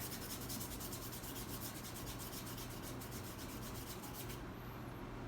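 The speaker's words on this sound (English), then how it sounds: "using this color, I'm gonna scrub right here" Brush scrubbing acrylic paint onto canvas, a continuous close, soft rasping rub that runs for several seconds with no other sound.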